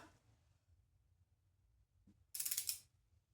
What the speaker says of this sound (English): Okay, let's tighten it onto the washer.